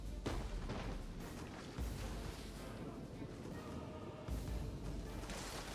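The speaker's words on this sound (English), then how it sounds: "artillery hitting over here" Artillery shells landing during a siege battle in Total War: Attila, faint distant booms thudding at irregular intervals under a steady wash of battle noise, with a soft voice talking over it.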